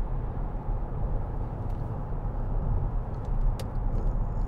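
Steady low road and engine rumble inside a 2011 Mercedes-Benz E220 CDI BlueEFFICIENCY convertible with a double-lined soft top, a constant subdued hum while driving.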